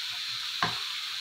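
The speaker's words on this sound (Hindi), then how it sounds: "इसको अच्छी तरह सबको मिक्स कर दूंगी।" Cooked chicken mince with paprika and other spices being stirred in a hot pan, giving a steady soft sizzle broken by one brief, close spoon scrape.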